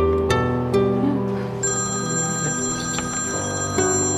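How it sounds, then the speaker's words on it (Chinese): A telephone rings indoors in a tonal, repeating electronic pattern that carries on for several seconds with a few clicks mixed in, and no one talks over it. "不好意思啊，我去接个电话"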